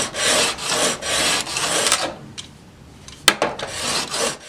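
Chisel bevel stroked back and forth across a sharpening stone, a run of steady abrasive rasping passes, close and fairly loud, broken by a short pause and a few sharper scrapes near the end.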